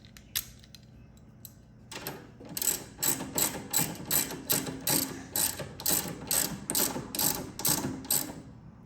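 A ratchet tightens the nut on a Kuryakyn Extended Girder brake lever on a 2015 Harley. It makes a close, crisp run of rapid clicking pawl strokes in a steady back-and-forth rhythm after a few faint opening ticks.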